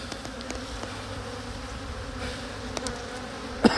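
Honeybees drone steadily at an open hive during a 4-H beekeeping inspection, a dense continuous buzz close by with a few faint knocks and a sharp tap near the end.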